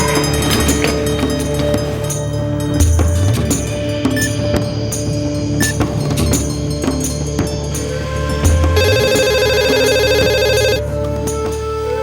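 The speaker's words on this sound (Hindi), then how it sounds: "सर जी वो स्टाफ रूम में आपका मोबाइल बज रहा है" A mobile phone in a school staff room rings with a loud, looping electronic ringtone melody that repeats steadily throughout, close and clear with no talking over it.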